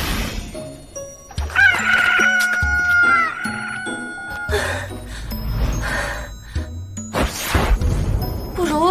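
Loud, agitated chicken calls and crowing-like squawks from an animated chicken being chased burst out repeatedly amid scuffling and clattering sounds, with no talking.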